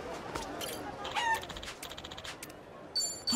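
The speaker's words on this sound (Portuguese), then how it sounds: "Enquanto isso, eu dou um abacaxi pra essa galinha e viro amigo dela" A chicken in the video game Like a Dragon: Infinite Wealth gives several short clucks and squawks, fairly faint and scattered over a quiet background.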